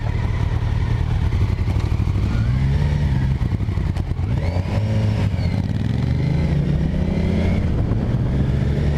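A Kawasaki Versys 1000 LT SE is ridden with its engine loud and close, revving up and easing off in repeated swells under wind rush.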